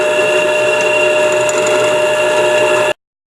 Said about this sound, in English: Drilled our hole.